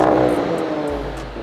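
An Audi RS4 fitted with a new exhaust revs hard, a loud, close engine note that rises and then settles into a steady drone, with no talking.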